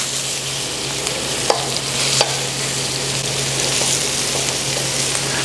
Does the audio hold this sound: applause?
no